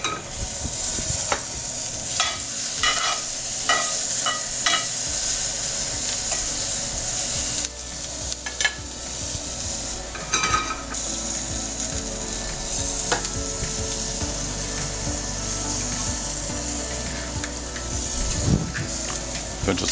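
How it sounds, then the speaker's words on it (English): Eggs fry in a hot pan with asparagus cooking nearby, a steady bright sizzle running throughout with scattered crackles and occasional scraping knocks, close and fairly loud, with no voices. "we're gonna let the pan heat up a little bit because we want the whites to kind of crisp up a little bit and puff"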